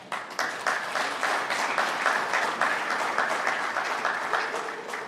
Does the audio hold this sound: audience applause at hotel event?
yes